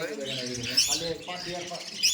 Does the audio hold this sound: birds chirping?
yes